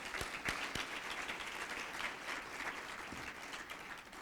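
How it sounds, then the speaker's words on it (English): A gala audience at a League of Women Voters centennial event breaks into sustained applause, a few sharp nearby claps standing out over a dense, steady wash of crowd clapping. "Let's give her a round of applause right now."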